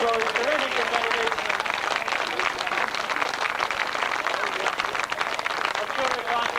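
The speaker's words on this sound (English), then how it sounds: "and indeed a great round of applause." A crowd at a grasstrack race meeting's prize presentation claps in steady, dense applause for several seconds, mixed with voices.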